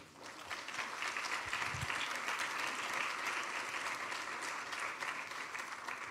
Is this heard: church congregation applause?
yes